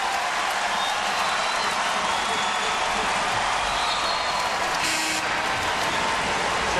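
A basketball crowd at a Kansas Jayhawks versus DePaul Blue Demons game gives a sustained ovation, loud applause and cheering filling the arena throughout as fans salute a player.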